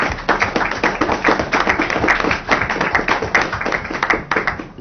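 Audience applause at a ceremonial handover event, dense close clapping that holds steady throughout without talk.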